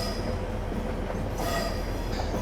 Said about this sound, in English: I'm not going to give the train any power, I'm just going to allow us to coast for a moment.